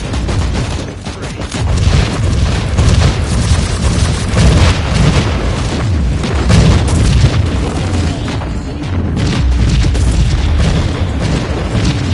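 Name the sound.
grenade explosion in Warhammer 40000 Inquisitor video game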